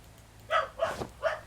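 A pet dog named Pretzel gives three quick, close barks in a short burst, evenly spaced, with no talking.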